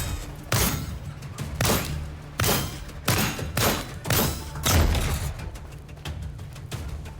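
Turret fire striking the player in the game Lost Skies: a run of about nine heavy, punchy impacts at roughly even intervals, loud and close, with no talk over them.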